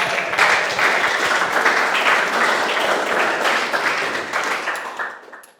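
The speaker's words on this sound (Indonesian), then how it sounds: "Tepuk tangan semuanya." A room of teacher trainees claps after a group presentation at a university teaching assessment, with a dense, lively burst of many hands that stays strong for several seconds and then tapers off quickly to quiet.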